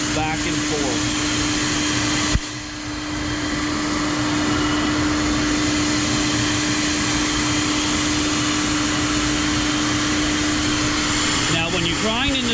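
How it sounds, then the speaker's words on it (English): A tool grinder works a channel tool against its wheel, giving a loud, steady whirring hum that runs unbroken throughout, with one brief dip early on. "When you're grinding the tool, you want the end of the tool just past the rear of the wheel."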